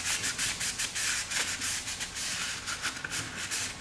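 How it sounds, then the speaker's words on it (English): Cloth rubbing back and forth along the bolt track inside a G39 rifle during cleaning, a quick rhythmic series of close, scratchy wiping strokes with no talking. "You'll want to get in here and wipe this track down."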